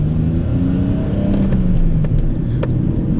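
A 1990 Nissan Skyline GTS-T Type M drives along. Its engine holds a steady, close, low drone with road rumble throughout, and no one speaks.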